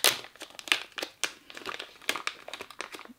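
Close, busy crinkling and rustling of paper wrapping inside a birthday gift parcel, with sharp irregular bursts as it is handled and pulled apart.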